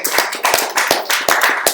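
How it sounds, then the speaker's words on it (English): A few people clap hands in a live stream, sharp close claps in a quick irregular rhythm, about a dozen strikes in under two seconds. "Clap it up."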